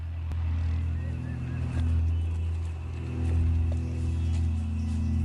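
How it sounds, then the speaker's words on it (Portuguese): Hovercraft engines approaching during an armed unit's raid on cocaine labs: a steady, loud low droning roar with a rising and falling swell, no talk. "os motores do hovercraft alertam as pessoas que processam a cocaína nos laboratórios"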